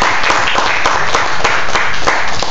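A church congregation breaks into loud applause for the Lord during a Spanish-language Bible study on Easter and the death of Christ, with dense rapid clapping filling the whole short stretch close and strong.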